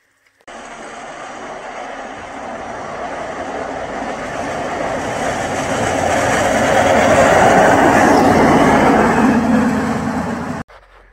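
Train rumbling through a railway tunnel, building steadily from a distant roar to a loud, close, sustained rush before cutting off abruptly.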